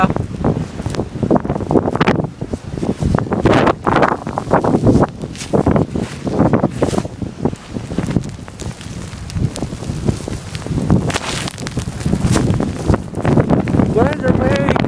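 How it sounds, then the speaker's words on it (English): Blizzard winds gusting to around 50 or 60 on a snowy road with blowing snow during the February 2011 Chicago storm, a loud, continuous broadband roar that buffets the microphone in repeated surging gusts. "Winds are maybe gusting up to 50, maybe even 60."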